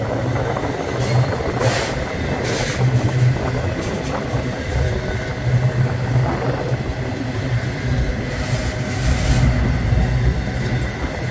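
A Union Pacific double-stack freight train passes close by as a steady, loud rumble of wheels and rail clatter that continues throughout, with no talking.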